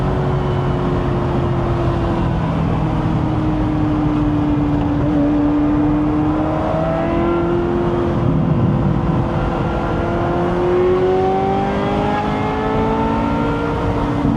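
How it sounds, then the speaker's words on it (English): A Ferrari 355 engine held at sustained high revs for the whole stretch, a loud steady wail with gently rising and falling pitch, no talking over it. "I'm very intentionally keeping it in high revs to heat it up."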